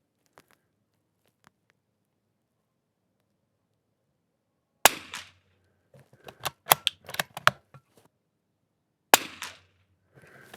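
Shots from a Super BRNO SAA 2500 rifle: a sharp, loud report after a stretch of near silence, then a quick cluster of snappy cracks and rattles, and a second sharp report near the end.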